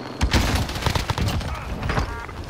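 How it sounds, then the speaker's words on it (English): In Call of Duty: Modern Warfare, a stun grenade goes off as a loud, close, crackling boom, followed by several quick thumping bursts over busy game noise. "Stun grenade out."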